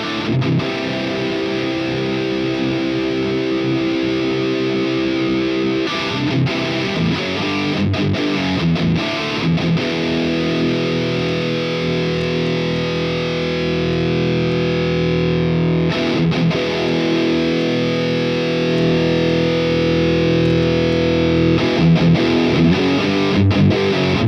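An electric guitar plays through a Boss IR-2 amp pedal, thick distorted chords and riffs sustained without pause, loud and close, with brief choppy muted bursts breaking up the ringing tones and no voices over it.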